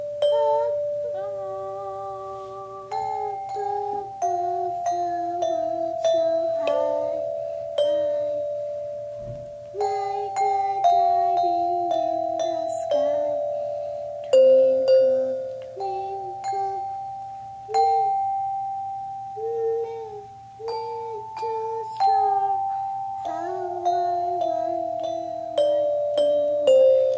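Bells play a simple melody of struck tones, one note after another, each ringing out and decaying before the next. A faint low hum sits underneath and no one talks.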